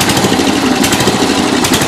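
The engine of a 1992 Yard King lawn tractor, first started in seven years, idles close by with a loud, steady, rough chugging rumble that holds constant throughout.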